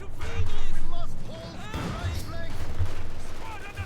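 MG42 machine-gun fire and a barrage in Company of Heroes 2: bursts of gunfire and thudding impacts rattle beneath a voice, which speaks over the battle almost the whole time.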